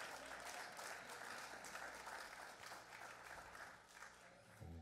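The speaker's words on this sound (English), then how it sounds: "let's give him a hand clap of praise" A church congregation's hand clap of praise for the pastor during a Sunday service: steady, dense applause from many hands, fairly faint and distant, filling the hall without a break.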